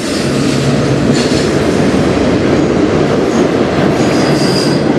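A CN freight train rumbles past close by, a loud steady roar of wheels on rail with faint metallic squeals riding over it and no talking.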